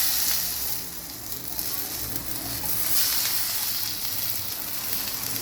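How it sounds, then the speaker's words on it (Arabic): Jumbo butterflied shrimp dropped into hot melted butter give a steady, loud, close sizzle and frying hiss that keeps going without a break and with no talking over it. "هنزل الجمبري."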